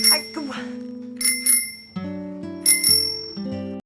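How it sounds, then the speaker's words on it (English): A handheld bicycle bell rings in quick double dings, three bright bursts spread across a few seconds over a soft musical score. "he pulled out the bicycle bell the man had given him"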